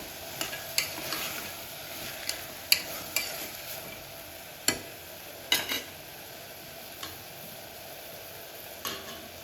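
Raw field beans (avarekalu) tipped into a pan of fenugreek pulao masala frying in oil with greens and tomato, giving a soft steady sizzle and scattered clicks and stirring scrapes, close by with no talk.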